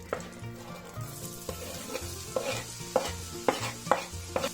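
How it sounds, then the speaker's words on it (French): Shallot fries in foaming butter in a pan, a steady close sizzle broken by louder bursts as it is stirred, with faint music underneath. "Quand mon beurre devient moussant, je vais y mettre l'échalote"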